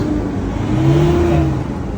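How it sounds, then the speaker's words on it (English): A Mitsubishi Triton's 4D56U diesel engine, stuck suction valve fault, runs and revs up close by in a workshop, a loud steady drone that rises in pitch and then holds. "Okay, switch off, ignition on, start again."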